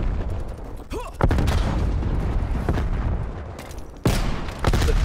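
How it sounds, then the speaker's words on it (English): A frag grenade blast in Call of Duty: Black Ops Cold War comes as sharp, loud bursts among ongoing game gunfire, with a heavy boom near the start and another toward the end, alone without voices. "Throwing frag grenade."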